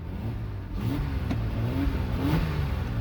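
A 2004 Honda Pilot engine revs repeatedly in rising surges while in drive with a transmission fault, a low droning motor climbing in pitch several times, close and steady without speech.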